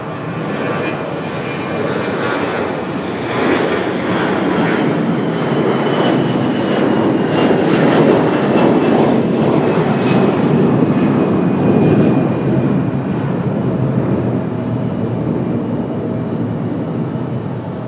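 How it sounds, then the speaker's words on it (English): American Airlines Airbus A321 jet departing Raleigh-Durham for Dallas Fort Worth: a loud, sustained engine roar that builds to a peak midway and stays strong, heard alone without voices. "This is our American to Dallas. The A321."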